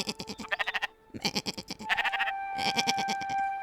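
Sheep bleat repeatedly in the Spiritfarer video game, several wavering calls in quick succession, close and loud, with no talking over them.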